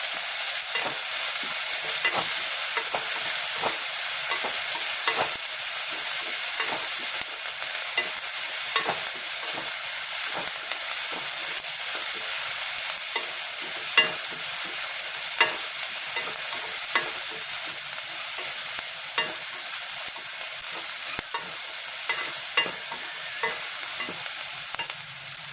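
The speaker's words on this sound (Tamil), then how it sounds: "வெங்காயம் வதக்கும் போது வெங்காயத்துக்கு தேவையான உப்பு கொஞ்சம் போட்டோம் அப்படின்னா அது சீக்கிரம் வதங்கிடும்" Onions sauté in a pan with a little salt, a steady loud sizzle running throughout while a spoon stirs with frequent soft scraping clicks, no voices.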